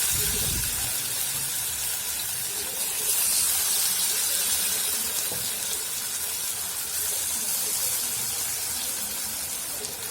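Marinated prawns fry in a pan over medium flame with curry leaves, giving a steady, fairly loud broadband sizzle and hiss throughout, with a brief low thump at the start as they go in.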